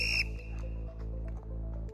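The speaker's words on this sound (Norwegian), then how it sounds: "20 sekunder til fløyte." A sports whistle at a rowing interval session gives a short shrill blast at the start, then fades under a steady low machine hum from the rowing equipment, with no voices.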